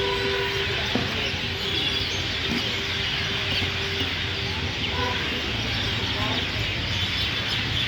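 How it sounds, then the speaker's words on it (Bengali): Birds chirping in trees around a district administrative office compound in Gazipur, a steady mass of small calls spread across the whole stretch, with some louder nearer notes and a faint rooster-like call over constant background noise. "সাথে তো কিচিরমিচির আওয়াজ আছেই"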